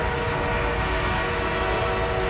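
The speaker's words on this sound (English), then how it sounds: "The enemy is being reinforced with an armored train." An armored train rumbles in Battlefield 1 on the Suez map, a loud, dense and continuous roar of rolling wheels and machinery that fills the whole moment without any voices.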